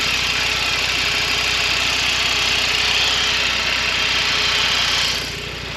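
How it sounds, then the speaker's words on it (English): An Audi TT RS Mk2 (8J) engine idles to warm its oil before a service, giving a loud, steady, even drone that holds constant and eases slightly lower right at the end. "at the moment I've got the RS running just to warm the oil up so it thins it a bit"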